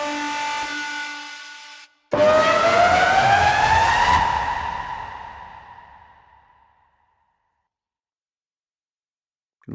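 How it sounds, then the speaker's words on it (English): A synthetic morph siren sound effect sweeps upward after a brief cut, loud and close, then slowly fades out into silence. "Gonna listen to some of the Morph Sirens."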